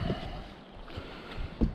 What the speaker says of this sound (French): Il y a du vent, tout s'envole.